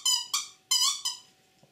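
Northumbrian smallpipe chanter reed set too closed, giving four short bright squawking blasts in a stuttering rhythm, fairly quiet and alone.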